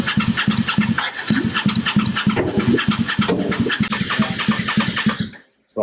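A Wheelhorse racing lawn mower engine cranks and catches when cables are touched together, a rapid, loud, pulsing chug that runs for about five seconds, close up, then cuts out abruptly.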